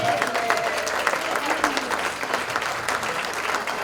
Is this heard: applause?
yes